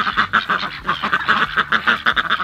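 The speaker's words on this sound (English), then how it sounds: "I don't know why ducks are so funny." Farm ducks quack loudly and close by in a quick, busy series of overlapping calls that carries on without a break for the whole moment.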